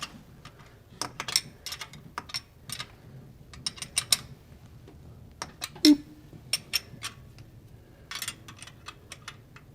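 A ratchet snugs down bolts on a square-bore throttle bracket during a carburetor swap, giving bursts of quick metallic clicks in short runs with brief pauses, close and moderately loud.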